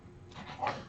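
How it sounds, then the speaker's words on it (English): A playing dog gives one short, faint yip or whimper near the end of a brief moment of quiet room noise. "Dogs are playing. Dog will make a noise."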